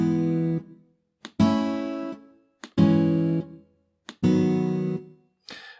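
A programmed strummed guitar chord progression, sequenced in Sandok song software, plays four full bright strums separated by short silences. Each chord rings and fades before the next, and small pick-like ticks come before the strums.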